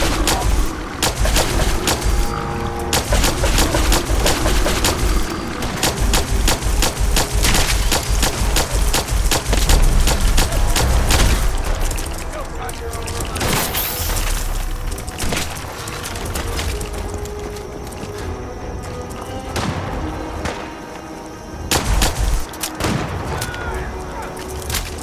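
Gunfire from a heavy weapon in the Fallout 4 Far Harbor expansion, dense rapid bursts of shots running almost continuously, loud and close, with a few brief pauses and background game noise.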